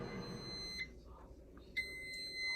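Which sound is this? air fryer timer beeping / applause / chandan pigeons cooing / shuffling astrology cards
air fryer timer beeping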